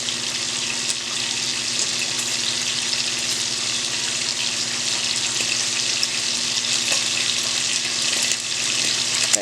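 Bacon frying in a pan for Southern fried cabbage makes a constant, even crackling sizzle with faint pops, loud and close throughout with no talk.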